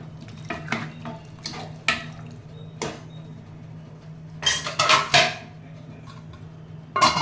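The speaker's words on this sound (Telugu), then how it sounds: "బాగా కదిలిద్దామండి గంటితోటి" Sambar being stirred in a pot with a ladle, heard as scattered metallic clinks and scrapes, some in quick clusters, over a low steady hum in a quiet kitchen.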